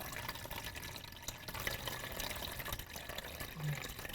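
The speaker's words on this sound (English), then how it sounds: "Once water begins to flow, continue depressing and releasing the dispenser pad" Water runs from a refrigerator's door dispenser during a filter flush, producing a faint, continuous splashing rush that stays even throughout.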